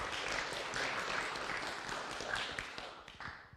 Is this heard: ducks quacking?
no